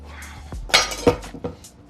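A knife cutting through butternut squash on a board, a few sharp thunks and clicks spaced close together, near and clear with no talking.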